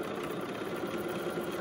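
Sewing machine stitching a pleated fabric face mask, a steady continuous mechanical hum with a low motor drone running throughout the short clip, fairly close and alone with no talk.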